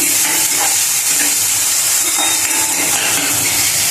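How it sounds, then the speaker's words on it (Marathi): Chopped onion frying in oil after cumin seeds have crackled, for a Maharashtrian-style brinjal curry, a loud, steady close-up hiss and sizzle with faint crackles and no talking. "जिरे तडतडल्यानंतर आपण हा कट करून घेतलेला कांदा घालायचा चांगला गोल्डन ब्राऊन होईपर्यंत फ्राय करून घ्यायचा"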